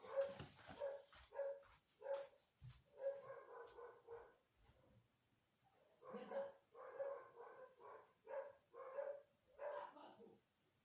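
Several dogs bark in repeated bursts, close by, with a short pause midway before a second run of sharp barks.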